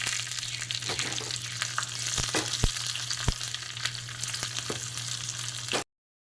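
Green chillies sizzling in hot oil with cumin and curry leaves for a dhokla tempering, a loud close continuous crackle with a few sharp pops, stopping abruptly near the end.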